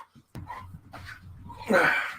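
A dog whimpers and whines close by in short, uneven bursts, rising into a louder, higher yelp near the end, with a bit of indistinct human sound around it.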